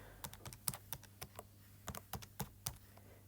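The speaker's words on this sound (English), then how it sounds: "We're going to type that on our calculator" Sharp plastic button presses as numbers are keyed into a calculator, about a dozen quick taps in an irregular rhythm, close and fairly quiet over a steady low hum.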